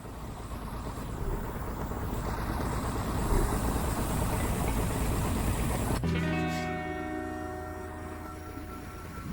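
Escape pod engine in the Expect You to Die VR game, a steady loud rumbling drone that suddenly drops at about six seconds into a lower hum with layered mechanical tones.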